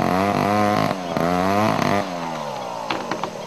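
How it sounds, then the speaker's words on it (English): Chainsaws cutting through trees while a former rubber plantation inside a national park is cleared for replanting, engines held at a loud, steady whine that drops in pitch and revs briefly before settling into a lower idle with sharp bursts. "This time, the chainsaws are working legally."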